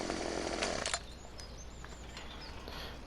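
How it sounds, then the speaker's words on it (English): A chainsaw runs in a farming video game, a loud steady motor drone that drops after about a second to a lower, continuous idling hum. "Turn the chainsaw off"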